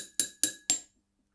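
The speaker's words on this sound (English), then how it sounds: "If I ding the glass," A glass of water struck three times, each ding a bright, clear ring with a steady high tone that decays quickly, evenly spaced, then silence.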